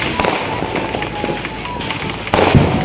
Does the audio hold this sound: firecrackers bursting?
yes